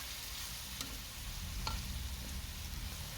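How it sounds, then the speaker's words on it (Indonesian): Chicken sautés in a pan without any water, a faint, even sizzle with a couple of soft clicks from stirring, with no voices. "Kita tumis sampai nanti ayamnya mengeluarkan kuah."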